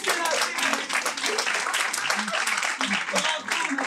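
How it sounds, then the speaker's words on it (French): An improv theatre audience claps in a dense, continuous patter of applause, with voices mixed in underneath. "Applaudissez-la."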